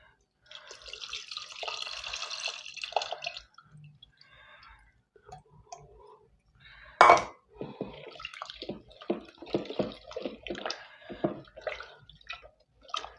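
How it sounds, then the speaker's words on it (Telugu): Tamarind pulp water poured into cooked moong dal, a steady close pour of liquid for a few seconds, then a sharp knock and further splashing, dripping and handling sounds. "ఇప్పుడు ఈ చింతపండు గుజ్జు నీళ్ళు దీంట్లో పోసేసుకుందాం."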